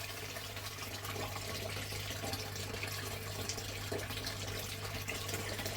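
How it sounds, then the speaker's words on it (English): Water poured over screens of gold pay dirt, a quiet, continuous rushing and splashing wash with no talking. "So I'll get a bit of water in there"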